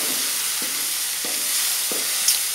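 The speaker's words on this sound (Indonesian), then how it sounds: "Ini kita goyang-goyang. Goyang-goyang, itu namanya numis." Ground sambal for a fish dish sautés in hot oil, hissing in a steady close sizzle broken by three evenly spaced scrapes of stirring.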